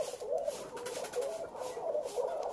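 Pigeons coo at a pigeon farm during morning chores, a soft, repeated rolling call rising and falling several times over steady background hiss, with no talking.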